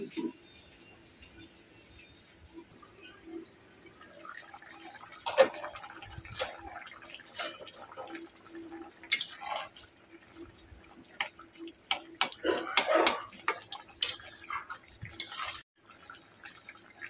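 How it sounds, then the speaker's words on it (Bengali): Water poured into a cooking pot of rohu fish curry with drumsticks and potatoes, heard as quiet splashes and drips that grow busier toward the end, with faint talk in the background. "আমি এবার জল দিয়ে দেবো।"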